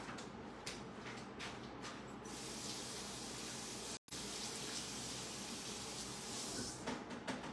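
Running tap water washes ink off cardstock and an embossing folder, a steady close hiss and splatter throughout that cuts out for an instant before resuming.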